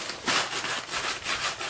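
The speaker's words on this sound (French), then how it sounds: "Et à nouveau je frotte. Voilà. Avec mon journal." Crumpled newspaper dipped in wood ash rubbed against the glass of a fireplace insert, a rapid series of close scratchy swishes back and forth in a brisk rhythm.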